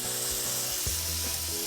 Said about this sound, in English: we're going to add our salmon fillets in